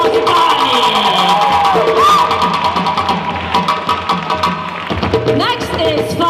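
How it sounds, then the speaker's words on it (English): An audience at a kids' fashion show in Minneapolis breaks into applause, scattered clapping swelling over background music and crowd murmur. "Give her a round of applause"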